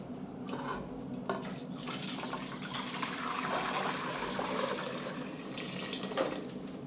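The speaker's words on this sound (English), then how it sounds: "I will pour the whey in the pot ready for" Whey being poured into a cooking pot while making ricotta, a steady splashing liquid stream running continuously and fairly close, with no talking.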